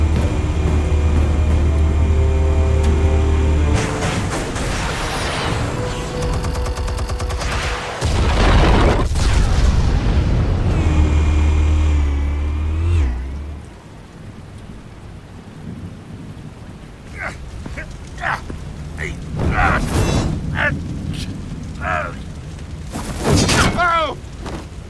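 Explosives detonating in an animated Batman adventure: loud booming blasts with rumbling low end and debris, several bursts over about thirteen seconds amid music, followed by quieter action sounds and voices.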